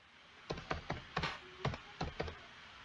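Quick typing on a computer keyboard while entering a prompt for an AI photo restoration tool, about eight crisp, close key clicks in a brisk, uneven rhythm against a quiet background.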